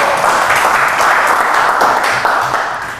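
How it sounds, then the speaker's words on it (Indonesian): Students in a classroom applaud together, a loud continuous wash of many hands clapping that tapers off at the end. "Ya, tepuk tangan."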